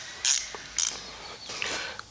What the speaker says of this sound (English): Make sure that that your wrench is set to lefty-loosey.